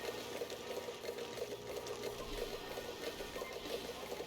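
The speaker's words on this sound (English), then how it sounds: "this has got water coming in" Flowing water in the Oxygen Not Included colony game, a steady, continuous rushing stream with faint rhythmic pulsing, moderately loud throughout and heard alone.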